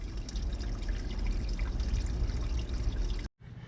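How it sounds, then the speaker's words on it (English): Water siphons out of a hot tub through a hose into a drain, a steady close pouring and trickling rush that cuts off abruptly near the end. "Water's now just siphoning right out of the tub."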